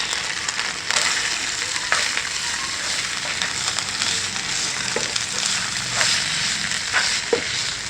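Chopped onions with ginger paste and garlic sautéing in a pan, a steady close sizzle with occasional scraping and stirring clicks throughout.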